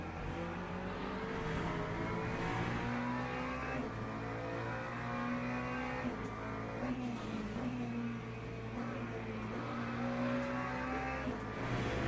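Ferrari race car in the Le Mans Ultimate racing game droning steadily at high revs down a straight, the engine note climbing and stepping through gear changes, loud and continuous with no voices.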